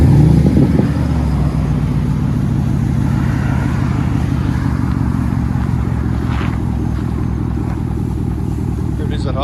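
A Chevy Camaro SS convertible with a 6.2L V8 idling, heard as a deep, steady, loud engine rumble close by, with someone talking over it.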